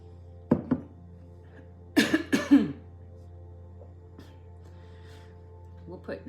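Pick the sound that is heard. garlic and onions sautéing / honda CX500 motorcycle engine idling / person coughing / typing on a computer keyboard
person coughing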